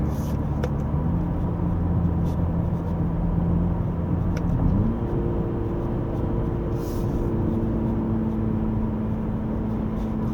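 A 2023 MINI Clubman JCW F54 in sport mode cruises at a steady legal speed, its engine giving a continuous deep rumble that steps up in pitch midway as revs rise, heard from inside the cabin.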